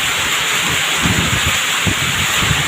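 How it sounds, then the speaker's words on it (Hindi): Heavy monsoon rain pours down outdoors as a loud, dense, unbroken hiss, with occasional low buffeting thumps from wind on the microphone. "ये देख सकते हैं बरसात।"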